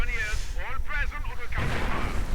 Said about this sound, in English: Lots of heavy fire on that church and blowing up the rest.